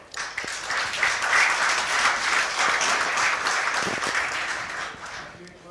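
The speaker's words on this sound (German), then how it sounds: "Ja, kriegt auch eine Anfeuerung aus dem Publikum." Spectators at a friendly 10-ball pool match break into applause, a dense burst of clapping that starts quickly, holds steady for several seconds and tapers off, with some voices mixed in.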